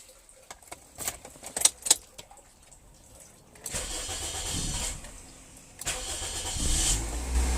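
A car engine cranks and starts after the starter relay was replaced, preceded by keys jangling and clicks up close. A whirring crank and catch follow, then the engine settles into a steady idle that swells as the revs rise.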